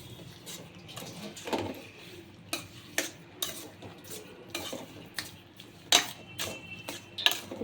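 A spoon stirs carrot halwa with sugar in a pan, making irregular scraping clinks and taps against the metal at an uneven rhythm over a faint low sizzle, close and fairly quiet with no talking.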